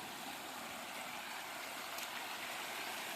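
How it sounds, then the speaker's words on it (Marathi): Floodwater rushes across a farm road after heavy flooding of the fields, making a steady, even hiss and roar with no talking. "रस्त्यावरूनच पाणी वाहतंय."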